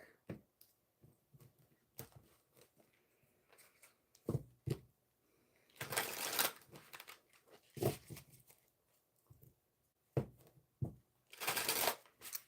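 Bursts of riffling tarot card shuffles come in quick, crisp flurries, separated by quieter taps and handling sounds, close to the listener.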